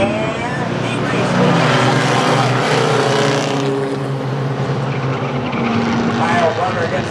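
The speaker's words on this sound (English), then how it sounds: "Heat racing action for the Mighty Trucks." Mighty Trucks four-cylinder race trucks roar through a heat race at Star Speedway, a loud, continuous engine drone that swells as the pack passes close by, with no break in the noise.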